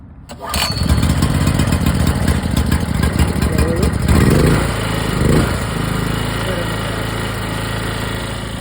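An Edon PT 3000 petrol generator starts up loud and close, its engine catching within a second and then running steadily at a rough, even drone.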